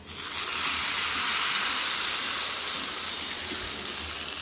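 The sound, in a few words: tempering sizzling as it is poured into the fruit curry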